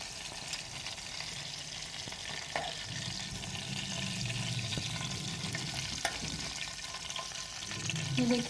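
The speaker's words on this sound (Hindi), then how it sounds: "ये देखें कबाब हमारे फ्राई हो चुके हैं।" Kebabs fry in a pan with a soft, steady sizzle, a few clicks and scrapes of stirring breaking through near the end.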